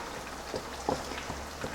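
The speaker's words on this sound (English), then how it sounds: "which is boiling very, very nicely" Masala for fish biryani simmering in a pot, a steady bubbling crackle with soft pops scattered throughout, close and moderately quiet with no talk over it.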